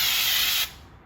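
Spray texture gun blasting drywall texture onto drywall panels, a loud close continuous hiss that cuts off abruptly partway through, leaving a faint tail.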